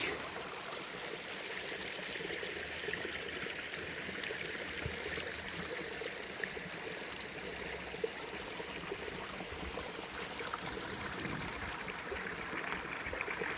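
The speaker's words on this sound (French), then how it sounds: "Un petit ruisseau dans la nature," A small mountain stream in the Vosges trickles and babbles steadily outdoors, a continuous close, moderately loud water flow with no talking.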